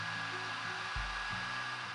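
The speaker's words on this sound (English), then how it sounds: "I used a hair dryer just until the underglazes lost their shine." A hair dryer runs steadily over freshly painted underglazes on a clay piece, a constant close airy whoosh with a faint motor hum and no voices.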